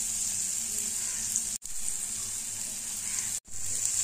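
A banana pancake frying in a pan over medium heat makes a steady, close hiss of sizzling oil. The sound cuts out briefly twice, and no one speaks.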